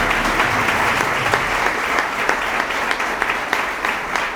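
An audience at a book presentation at an international book fair in Rosario applauds, with steady, full crowd clapping and sharp individual claps standing out across the whole stretch.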